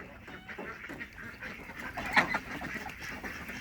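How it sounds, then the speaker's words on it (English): Ducks gather on a small ramp atop a barrel in their pen, giving a few soft, close quacks and honking calls over steady background noise, with one louder call standing out near the middle. "there's a perfect example how much the duckies like their little ramp"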